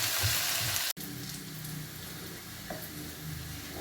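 Potato slices sautéing in a frying pan for a Spanish omelette, a steady close sizzle and crackle of hot oil with a faint soft stir, after a brief sharp cut at the start.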